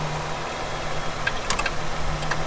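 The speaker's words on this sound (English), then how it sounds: "the idle's smooth, it sounds healthy" A 2010 Toyota Highlander Limited idles smoothly, a steady low engine hum with a few faint clicks and ticks over it.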